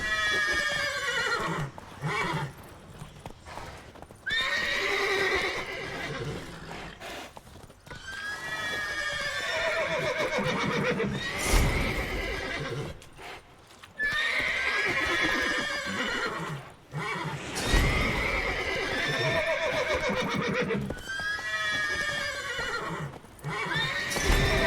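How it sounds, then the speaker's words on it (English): Horses in The Witcher 3 video game whinny repeatedly in loud, ringing bursts, mixed with clip-clopping hooves, sounding stylized and game-like with no one talking. "Gotta call off the horses before they wake the guards."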